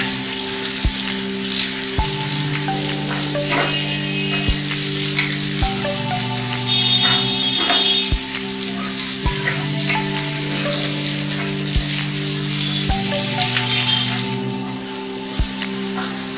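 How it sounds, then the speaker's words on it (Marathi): Chilli, capsicum, carrot and spring onion stir-fry in hot oil with a continuous bright sizzle. A spatula scrapes and knocks against the pan at regular intervals, and a steady low hum runs underneath. "त्यामध्ये मिरची, शिमला मिरची, गाजर व कांद्याची पात घालून परतून घ्या."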